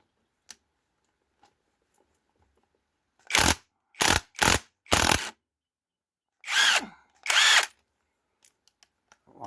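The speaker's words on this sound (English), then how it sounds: "now I'm doing those bolts inside there quickly" Power tool undoing bolts on a Peugeot 404 four-speed gearbox during a strip-down, several short loud bursts in quick succession, a pause, then two longer bursts, with faint clicks between.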